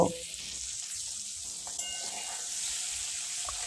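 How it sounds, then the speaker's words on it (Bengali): Paneer frying in mustard oil in a pan, a steady bright sizzle running continuously at moderate level with a small clink partway through. "পনিরটা আমার এখানে ভাজানো হয়ে গেছে তুলে নেব"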